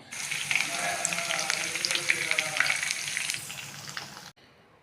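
Okra pieces frying in oil with dried red chillies, cumin, onion and turmeric, a steady broadband sizzle with scattered crackles and pops that stops abruptly near the end.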